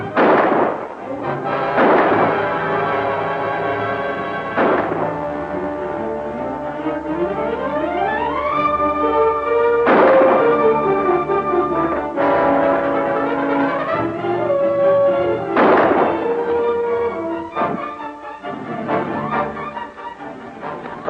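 Gunshots ring out in a gunfight around a stagecoach in a 1940s-style western, with several sharp, loud bursts spaced across the scene over sweeping dramatic orchestral music.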